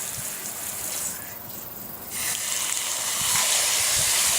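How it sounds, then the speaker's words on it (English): Running water rinses a cleaned freshwater drum fish, a close hissing spray that briefly eases and then grows louder and steadier, no talking. "And again, you get the running water."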